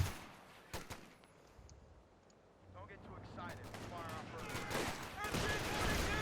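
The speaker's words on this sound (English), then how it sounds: "Sniper fire supporting here." Gunfire in the Company of Heroes 2 video game: scattered single shots early on, then a denser rattle of rifle and machine-gun bursts building toward the end amid battle noise and voice-like chatter.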